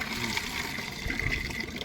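Water gushing steadily from a hand-operated water pump, a continuous close splashing flow with no talk over it.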